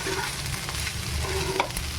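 Rice mixed with lemon powder stir-fried in a pan: continuous near sizzling with repeated scraping and tapping of a spatula against the pan, no one speaking.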